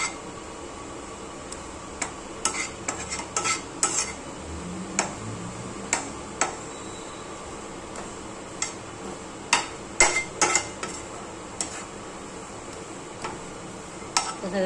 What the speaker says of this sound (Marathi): हे बेसन भाजून घेते मी पॅनमध्ये. आणि हे बेसन चांगलं भाजून घ्यायचं.